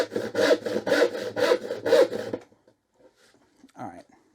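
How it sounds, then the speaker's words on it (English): A tenon saw starts a cut in a piece of wood, making five rhythmic, close, rasping back-and-forth strokes that stop abruptly, followed by brief faint handling noise. "What I'm going to do here is just use my tenon saw to start this, as it's a little bit awkward to start."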